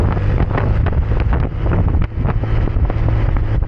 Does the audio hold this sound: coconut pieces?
no